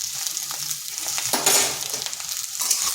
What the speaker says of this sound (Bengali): ঢেঁড়সটাকে এইভাবে হাই আঁচে নেড়ে চেড়ে নিতে হবে।